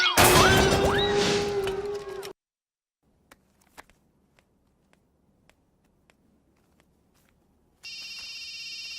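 A telephone rings in a Telugu film scene, a short electronic ring that starts near the end after nearly silent seconds of faint clicks. It follows an opening burst of loud, sweeping sound effects.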